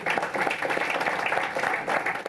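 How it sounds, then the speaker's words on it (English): A short burst of applause from a small audience at a night photography talk, a close patter of clapping hands that swells unevenly for a couple of seconds. "I'm going to give you a round of applause."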